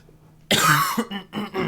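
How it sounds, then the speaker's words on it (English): A single harsh cough bursts out close and loud, followed by a couple of shorter throat-clearing coughs in quick succession. "Sorry about my cough today, everyone."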